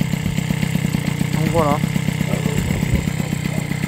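A moped engine with a slipping drive belt runs steadily in a rapid, close mechanical putter, with a brief rising whine partway through and someone speaking briefly over it.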